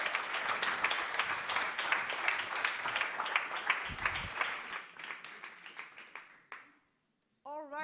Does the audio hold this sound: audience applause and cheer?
yes